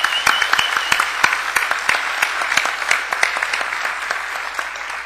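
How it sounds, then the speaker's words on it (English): A meeting audience applauds at opening remarks, dense steady clapping with distinct individual claps standing out, loud and sustained from start to finish with no talk. "everybody, a big round of applause"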